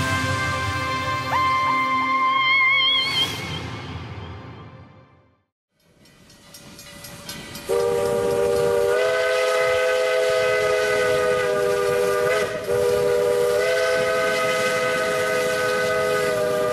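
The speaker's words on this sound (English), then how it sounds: "immerse ourselves in these amazing steam trains" Historic steam locomotives at Steamtown in Scranton blast long, loud chime whistles over a rumbling train, with a short lull between two extended whistle blasts.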